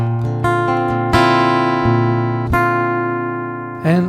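An acoustic guitar strummed through piezo pickups blended half-and-half with a Zoom A3 preamp: a few bright, sustained chords ring out and decay, with a final quick strum near the end.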